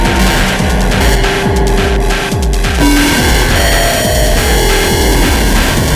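An Arturia MiniFreak synthesizer plays through heavy, washed-out reverb after delay, multi-band compression and a bit crusher, giving a dense, loud, continuous throbbing tone with repeating pulses and a shift in texture midway.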